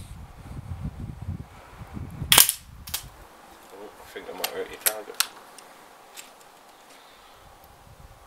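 Umarex Buckmark air pistol firing, a few sharp, fairly quiet pops with small metallic clicks between them, close by, while people talk at the start.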